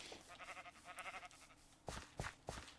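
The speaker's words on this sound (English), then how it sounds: "Gosh, those sheep are noisy." Sheep bleat in a Minecraft world, several short wavering calls in a row followed by a few louder, sharper bleats near the end, up close against quiet game ambience.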